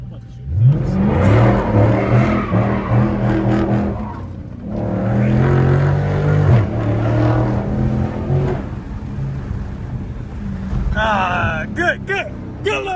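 A Chrysler SRT 392 Hemi V8 revs hard in repeated bursts, its deep engine note rising and falling with tire squeal, then fading before a short final rev.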